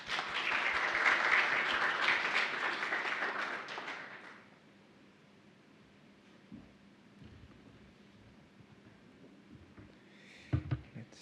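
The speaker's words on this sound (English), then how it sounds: "Please welcome them with a huge round of applause" A crowd at a Python programming conference claps loudly for about four seconds, then the applause fades into quiet room tone with a few faint bumps.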